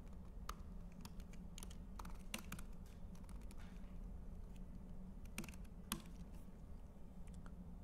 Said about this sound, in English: So now if we start typing in a password